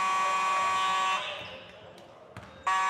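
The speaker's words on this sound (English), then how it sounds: "And folks, that is the fire alarm." A fire alarm blares beside a basketball court during a game, a loud sustained buzzing tone that cuts off, leaving gym ambience with a brief thump before the alarm sounds again.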